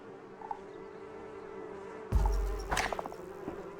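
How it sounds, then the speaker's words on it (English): Buzzing bees in the game Donut County: a faint insect hum gives way to a sudden louder burst with a thud and a swell of buzzing, fading back down. "Not the bees, not the bees."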